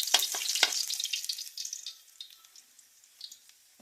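Garlic sizzles as it is stirred in a hot pan, a bright crackling that is loudest at first with a few spatula scrapes, then settles into a quieter, thinner fry.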